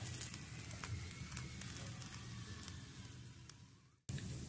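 Red chilies roasting in a little oil in a pan, with a soft continuous sizzle and crackle, low and close, that cuts out briefly near the end before resuming.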